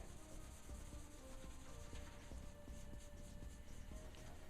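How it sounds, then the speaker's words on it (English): Light hand rubbing over a kitchen cabinet's antique white finish to soften it, giving a steady, continuous soft scuffing and brushing texture at close range with no talking. "I'm just rubbing really light."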